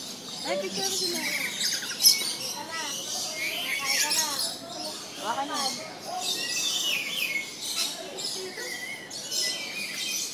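Green birds in Jurong East Park, Singapore keep up a busy stream of chirps, squawks and chattering calls, some close and loud, with faint human voices in the background.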